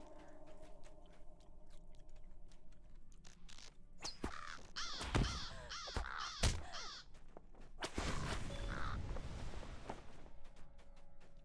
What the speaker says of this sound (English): that's why they call it a murder of crows